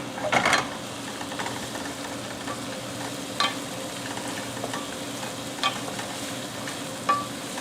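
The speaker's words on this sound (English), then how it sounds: "If you can hear the sizzling." Onions sizzle steadily in a hot pan, a continuous crackling hiss broken by a few louder clatters of stirring.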